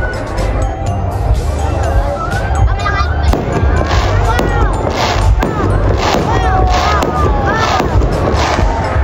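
Fireworks at a Capitol light show for a Paskong Quezonian Christmas celebration crackle and boom continuously, loud and near, under a cheering crowd.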